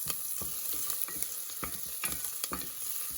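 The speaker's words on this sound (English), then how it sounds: "we're gonna add in 2 tablespoons of salted butter. We're just gonna let these melt over medium heat" Salted butter melts with onions in a pan over medium heat, giving a steady close sizzle with crackle and light pops running through the whole stretch, and no talk.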